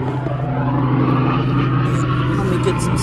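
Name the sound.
helicopter flying overhead near an airport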